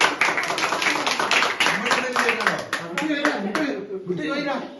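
Family members clap at a first wedding anniversary celebration: a quick run of a dozen or so sharp, close hand claps mixed with people talking, thinning out toward the end.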